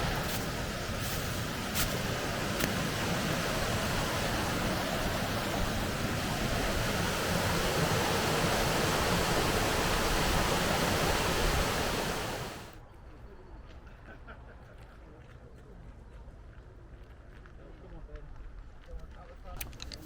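A rapid waterfall along the Cumbria Way mountain route in the Lake District rushes loudly and steadily for about thirteen seconds, then drops abruptly to a softer, distant hiss with faint wind buffeting.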